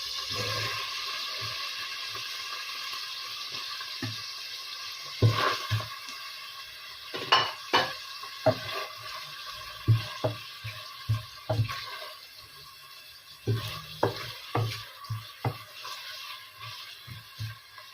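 Onions sauté in a pan for a pot of monggo, a soft steady sizzle broken by scattered clinks and scrapes of a utensil against the pan.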